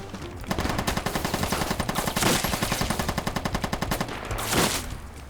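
Pistol and machine gun fire in the Roblox war game crackle in fast rattling bursts, with a couple of louder blasts breaking through the rapid stream of shots.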